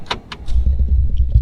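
A pickup truck engages 4-wheel drive and crawls along a rough road, with a few sharp clunks and rattles up front giving way to a steady low engine drone and bumpy rumble close by.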